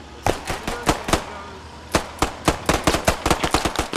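Rapid gunfire from the World War II shooter Post Scriptum, a string of sharp close shots in irregular bursts with a brief lull before fast volleys resume near the end.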